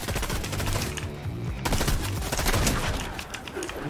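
Rapid bursts of automatic gunfire in the video game Fortnite rattle almost continuously, loud and dense, with a short break before the firing resumes.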